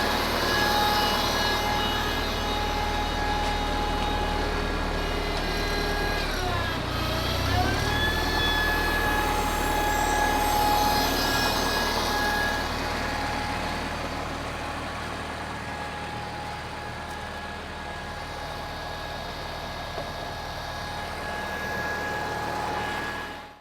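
A 1955 IHC McCormick Farmall Cub tractor engine runs steadily and smoothly, close by and fairly loud, with a brief dip in pitch partway through before settling back to an even idle.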